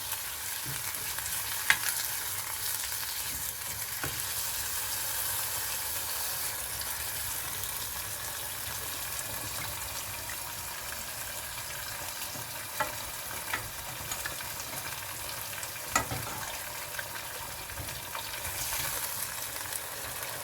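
Steady sizzling of mutton frying in a karahi, a continuous hiss with occasional soft clicks and stirring sounds, close by, no talking.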